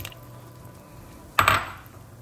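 Tomatoes going into a pot of beef sinigang, a single sharp metallic clank near the pot, loud and close, followed by a short fading rattle over quiet kitchen background.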